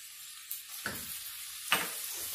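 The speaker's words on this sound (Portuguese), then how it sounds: "Eu dou só uma mexida rápida pra puxar o fundo e não queimar." Grated onion, juice and all, stirred into browned meat in a single pot while preparing arroz carreteiro; a couple of short scraping stirs break through a soft steady sizzle, close and fairly quiet, with no talking.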